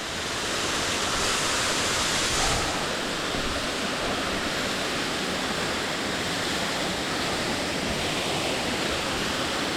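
A steady, roaring rush of falling water at Rufus Morgan Falls in the Nantahala Forest, loud and close, with broadband churning and no voices.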